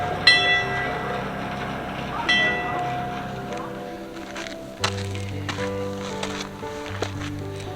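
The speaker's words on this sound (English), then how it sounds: "And there goes the Calico mine train." A mine train at Calico Ghost Town rumbles past with a low steady drone, bright metallic clanks and a ringing bell-like tone, some thumps punctuating the passage.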